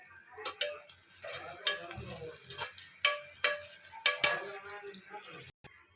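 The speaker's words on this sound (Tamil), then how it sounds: "வெங்காயம் நல்லா வதங்கட்டும்." Onions sautéing in a pan with curry leaves, stirred with a spoon that scrapes and taps the pan in repeated sharp strokes over a low sizzle, heard close with no voices.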